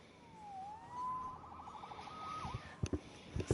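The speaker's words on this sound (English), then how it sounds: "Saved by the siren." A wailing video-game siren in Spider-Man Remastered rises and falls in pitch, fairly close and clear, followed by a few sharp knocks and clatters.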